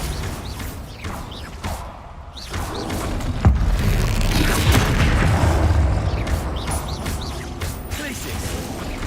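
Loud magical explosion from the Bombarda spell in Hogwarts Legacy, a sharp boom with whooshing debris over dense game combat noise, continuing as a rumbling, crackling wash.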